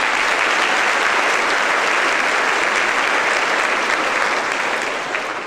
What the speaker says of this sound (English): Please join me in a round of applause for your Beta Club.